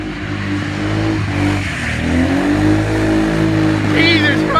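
A Nissan Skyline R32 revs hard while drifting, its engine note rising and falling under loud continuous road noise, with a brief tire squeal near the end and people talking over it.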